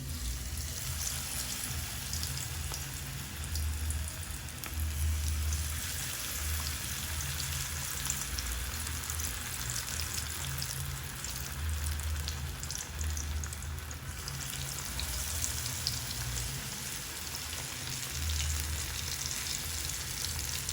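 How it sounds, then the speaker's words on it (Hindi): Spiced fish pieces deep frying in hot oil for a Lahori fish fry, a steady close sizzle and crackle running throughout with no talking. "बस इसे अब हम डीप फ्राई कर लेंगे।"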